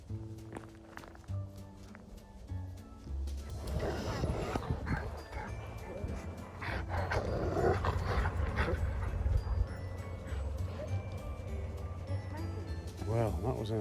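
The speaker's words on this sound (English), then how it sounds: "There's somebody coming up behind me with a few barky dogs." Several dogs bark in short bursts on an evening walk outdoors, moderately close and sometimes overlapping, with footsteps, occasional whimpers and people talking in the background.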